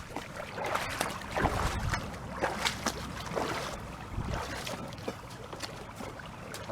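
While someone prospects for gold in a creek, a water pump runs steadily alongside the water, with uneven splashing and rushing water throughout and no talk.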